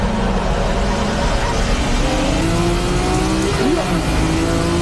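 A Nissan Silvia and a Skyline race side by side at Tsukuba circuit, their engines roaring loudly and continuously with rising and falling revs, while a commentator talks over the noise.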